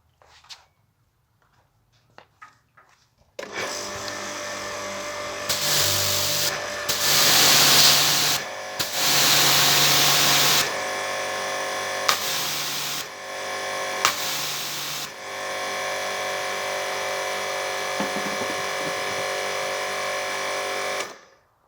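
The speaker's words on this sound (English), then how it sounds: "First we will test the machine with the broken Microswitch," After a quiet start with a few clicks, a Karcher HD 5/15C commercial pressure washer with a faulty microswitch starts up and runs as a loud, steady motor hum, swelling and dropping as spray bursts switch on and off.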